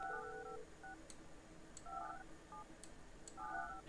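Telephone keypad tones sound in the building-management video game Project Highrise: short paired dialing beeps in several quick bursts with gaps between them, clear over a faint background hiss.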